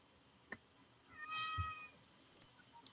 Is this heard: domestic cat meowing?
yes